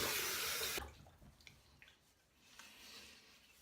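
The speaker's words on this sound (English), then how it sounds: "gonna rinse that off" Running water from a tap rinses menthol shave product off after a shave with a Parker Variant razor and Laser Ultra blade; a strong gush for under a second, then faint splashes and trickling.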